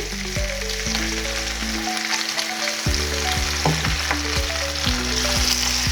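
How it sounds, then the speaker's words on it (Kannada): Capsicum fries in oil with freshly ground masala for a Karnataka-style palya, a loud continuous sizzle with stirring scrapes, joined by a melodic background tune and no speech. "ಹೊಟ್ಟೆ ಮೆಣಸಿನ್ಕಾಯಿ ಎಲ್ಲ ಚೆನ್ನಾಗಿ ಫ್ರೈ ಆಗಿದೆ ನೋಡಿ ಚೆನ್ನಾಗಿ ಎಣ್ಣೆಯಲ್ಲಿ ಫ್ರೈ ಆಗಿದೆ"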